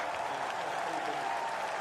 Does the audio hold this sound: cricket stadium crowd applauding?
yes